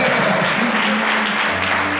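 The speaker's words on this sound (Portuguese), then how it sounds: "Pode aplaudir em nome de Jesus" Steady applause from a church congregation during a communion service, a dense continuous patter of clapping at even loudness throughout, with a faint low hum underneath.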